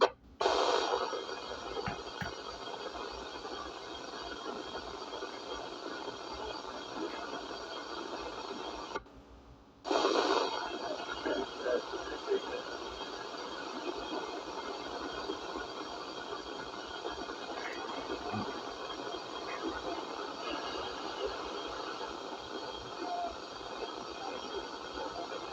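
A passing railroad train carried over a ham radio net rumbles and clatters steadily through faint radio hiss, cutting out briefly partway through before continuing at a moderate distance.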